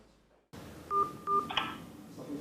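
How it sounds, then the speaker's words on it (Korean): Phone keypad tones as buttons are pressed while dialing 112, two short electronic beeps in quick succession followed by a brief click, close and clear over a quiet room. "112에 전화를 걸어 아무 버튼 두 번만 누르면 경찰이 신고자 휴대전화로 링크를 보내줍니다."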